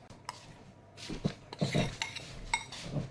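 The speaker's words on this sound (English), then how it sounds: "Then you are going to stir. Incorporate all of this nicely." Ingredients stirred together in a big bowl for a homemade snack, with clinking of a utensil against the bowl and irregular scraping and rattling strokes, growing busier and louder after the first second, close up with no talk.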